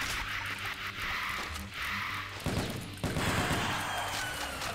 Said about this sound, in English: I just keep throwing grenades in there to kill them both.